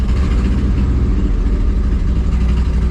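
The V8 engine of a 1968 Chevy Suburban idles with a steady, low rumble, even and close by, with no voices.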